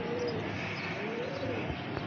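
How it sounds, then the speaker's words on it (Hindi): A pigeon of good bloodline coos softly in a low, steady, wavering call, close by over constant background noise, with a faint thump near the end. "ये एक अच्छे ब्लड का कबूतर है"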